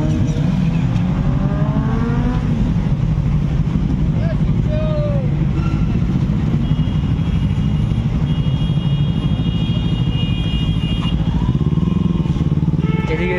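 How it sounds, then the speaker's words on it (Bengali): Superbikes ride past on a road, their engines droning and revving with rising and falling tones over a busy traffic rumble, while people talk throughout. "এখান দিয়ে যখন সুপার বাইকগুলো যাবে খালি সাউন্ডগুলো শুনতে যায়"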